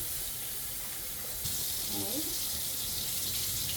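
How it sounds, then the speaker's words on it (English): Steady broadband rush of running tap water, growing slightly louder partway through, with faint murmured talk in the background. "I usually soak it in room temperature water, so I will rinse it a couple times"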